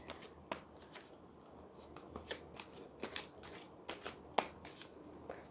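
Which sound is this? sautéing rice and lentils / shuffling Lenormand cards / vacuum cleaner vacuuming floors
shuffling Lenormand cards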